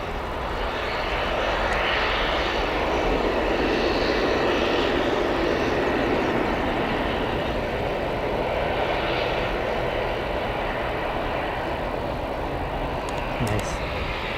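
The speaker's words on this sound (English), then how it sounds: "looks like Aer Lingus has gone all the way to that gate there where we can't really see" An Aer Lingus airliner taxis at Newcastle Airport, its jet engines producing a loud, unbroken, broadband roar that holds steady throughout, with faint talk nearby.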